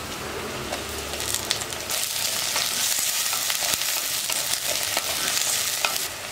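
Tomatoes sizzling loudly in a pan with softened onions, with stirring scrapes over a steady, close frying hiss.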